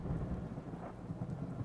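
A thunderstorm rumbles low and continuous beneath steady, dense rainfall, the deep roll filling the short stretch without any break or voices.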